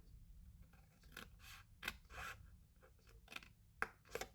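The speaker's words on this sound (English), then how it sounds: "we're going to just cut straight up this score line here" Scissors snip straight up a score line in card stock, a series of quiet, crisp cuts and paper rustles spaced irregularly, close up with no talking.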